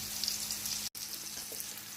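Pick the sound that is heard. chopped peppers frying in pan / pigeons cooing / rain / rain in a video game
chopped peppers frying in pan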